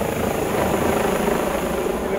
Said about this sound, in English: Got a chopper coming in now.